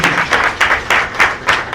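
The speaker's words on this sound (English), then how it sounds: "Another round of applause for the work that they've done" Audience applause at a ceremony in Sierra Leone, rising and falling in rhythmic waves of clapping from a crowd, fairly loud and close with no talk.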